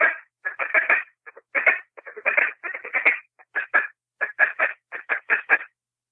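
A duck call blown as a relaxed feeding chuckle, the kind used to imitate ducks feeding on corn or rice: a quick, rhythmic run of short clucking bursts in uneven clusters, close and clear, with no talking.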